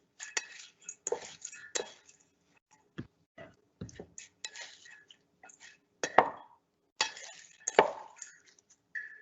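Salad leaves, including rocket, tossed lightly in a bowl, giving a run of soft, uneven clinks and taps of utensils against the bowl, close by and fairly quiet, with pauses in between.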